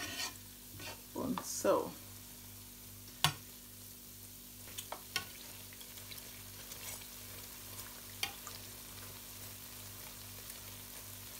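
Puff puff dough balls fry in hot oil with a faint, low, steady sizzle, broken by a few soft knocks and clatters near the start and scattered light taps later.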